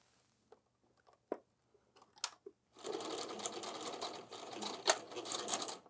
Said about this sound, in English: I'm gonna fold this and stitch it so that it can't get pulled back through.